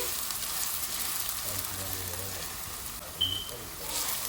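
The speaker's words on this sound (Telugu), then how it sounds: "ఇవి బ్రౌన్ కలర్ వచ్చే వరకు అల్లం వెల్లుల్లి పేస్ట్, ఉల్లిపాయలు వేగాలి" Onions and ginger garlic paste frying in oil in a pan give a steady, close hiss of sizzling, with a faint voice murmuring underneath.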